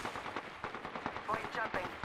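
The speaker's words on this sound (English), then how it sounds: "Getting shot at. Opening fire." Apex Legends video game gunfire: a quiet, continuous stream of rapid automatic shots, faint and somewhat muffled, with brief in-game voice cues mixed in.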